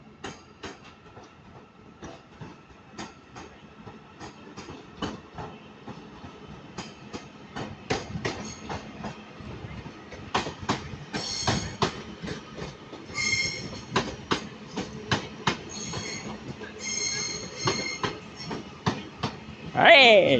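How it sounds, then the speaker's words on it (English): A DB Cargo Class 66 freight locomotive hauling an intermodal train through Manchester Piccadilly station, a rolling rumble with rhythmic wheel clacks building in loudness, brief squeals near the end. "Passing by now is going to be a DB Cargo UKCAS 66, going from Trafford Park Euro Terminal to London Gateway DB Cargo."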